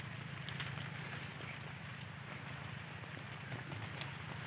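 Steady rain falls on a rural farm hut during a wet harvest day, a dense continuous hiss of drops with soft patter on surfaces, even and unbroken throughout with no voices.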